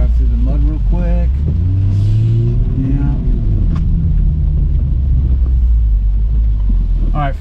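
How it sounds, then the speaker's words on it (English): A Toyota Supra with a Pedal Commander fitted drives through mud, its low engine drone steady and loud under wind buffeting and some talk, with engine pitch rising and falling through the run. "we're gonna drive through the mud real quick"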